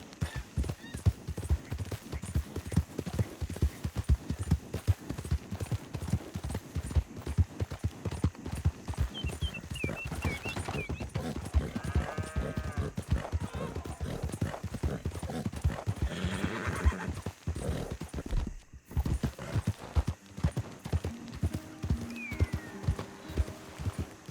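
Steady clip-clop of hooves in Red Dead Redemption 2 fills the scene, with a horse whinnying partway through; the hoofbeats continue quickly and closely throughout.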